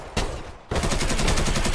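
Long burst of automatic gunfire in a shooter game, loud and close, rattling in rapid even pulses after a couple of earlier shots.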